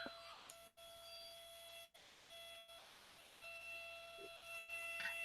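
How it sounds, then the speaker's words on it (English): A steady electronic alarm tone rings out across a town, a continuous high pitched beeping drone with brief dropouts, heard at a distance under faint background noise. "They got that ringing all through town like that."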